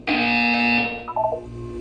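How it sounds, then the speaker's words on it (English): A Portal 2 buzzer gives a loud, harsh electronic tone that holds for about a second, then breaks into a few shorter stuttering beeps before stopping. "You will hear a buzzer."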